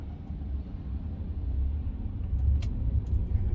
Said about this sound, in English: We do have a lot of cars going behind us.